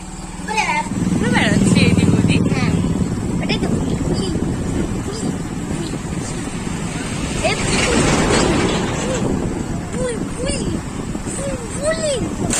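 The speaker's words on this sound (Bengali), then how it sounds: "এই যে আমাদের বাইক রেডি হয়ে গিয়েছে চলো" A motorcycle ride, with a steady engine drone and road rumble running throughout while people talk over it.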